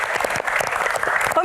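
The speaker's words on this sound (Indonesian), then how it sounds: "Tepuk tangan dong, teman-teman." A studio audience at a televised Indonesian Q&A panel show applauds in a dense, steady burst of clapping that lasts the whole moment, close and fairly loud.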